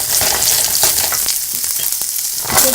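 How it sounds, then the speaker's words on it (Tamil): Garlic, ginger and green chilli sauté for a chicken gravy in a loud, continuous sizzle, broken by a few soft stirring scrapes partway through. "எடுத்து வச்ச பூண்டு, இஞ்சி, பச்சை மிளகாய் போட்டு ஒரு வணக்கிட்டு"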